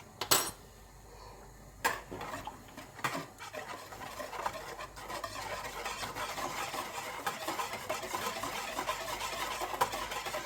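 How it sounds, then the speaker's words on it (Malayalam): Egg batter with vanilla essence for bread toast is whisked in a bowl, giving a fast, steady clinking and scraping of utensil against the dish that builds and carries on without speech. "ഇനി നമുക്കിത് നന്നായിട്ട് ഒന്ന് മിക്സ് ചെയ്ത് കൊടുക്കാം."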